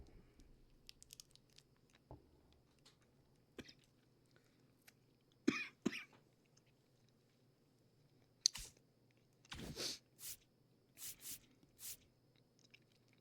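A person coughs in several short, sharp bursts scattered over a quiet background, some close together, with small clicks between them.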